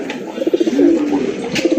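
Pigeons, including Bombay pairs, coo at a pigeon farm in loud, close, repeated throaty calls that overlap in a quick pulsing rhythm, with no talking.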